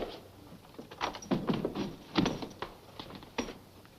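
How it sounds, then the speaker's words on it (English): An interior door is swung shut, giving a few short knocks and thumps of wood and latch at close range, with no talking over them. "Shut the door, Rocco."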